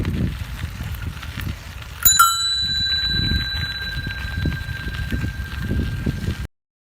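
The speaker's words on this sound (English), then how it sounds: "Bicycle." A bicycle bell rings once with a bright, sustained metallic ding that slowly decays, set against low rumbling background noise, in a lineup of vehicle sounds.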